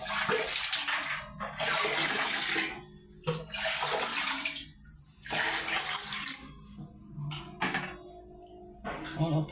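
Tap water gushes into a bath basin for bathing, running in several long bursts separated by brief pauses as the flow is adjusted, close and loud, with a voice speaking faintly in the gaps.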